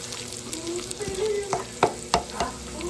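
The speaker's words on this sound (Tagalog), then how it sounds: "haluin na natin" Food being stirred in a pan of sauce with fresh milk, with a low sizzle running throughout and several distinct spoon scrapes and clinks near the end.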